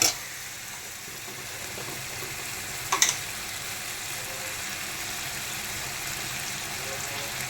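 Masala semiya (vermicelli) frying in a pan, a steady soft sizzle throughout with a brief clink near the middle, close and moderately quiet.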